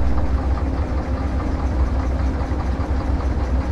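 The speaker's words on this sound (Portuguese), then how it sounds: "Motor de carreta, pô." Diesel locomotive engine in the Derail Valley train simulator idles with a dense, steady low rumble and throb, loud and continuous throughout with no voices.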